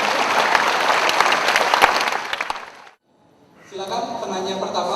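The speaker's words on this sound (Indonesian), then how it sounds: "kita berikan aplaus kepada dua pembicara kita" An audience claps for two speakers at a talk, with dense, loud, sustained applause and a few sharper individual claps. It fades into a short silence, after which a voice begins speaking.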